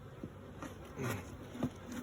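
Honey bees from a young start-up colony buzz faintly and continuously, with a few brief louder passes as insects fly near, set against quiet outdoor background.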